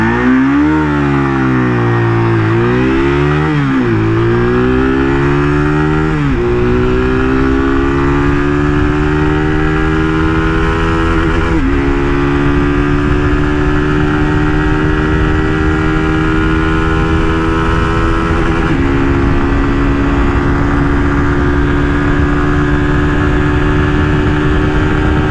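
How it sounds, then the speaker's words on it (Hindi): Keeway SR250 motorcycle engine revving sharply a few times, then pulling steadily up through the gears while riding, the loud exhaust note climbing in pitch with each shift. "जो थ्रोटल का रिस्पॉन्स है वो बहुत ही क्विक है, आप यहाँ पे देख सकते हैं"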